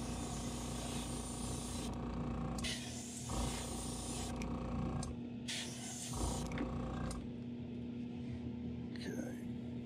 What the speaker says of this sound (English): I'm going to lightly spray over that